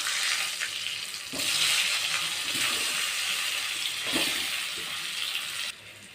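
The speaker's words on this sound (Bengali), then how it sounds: "একই তেলে এখন আলুগুলো আমি ভেজে নেব।" Boiled potatoes fry loudly in oil, a thick close-up sizzle that swells and eases as they are stirred, with occasional scraping.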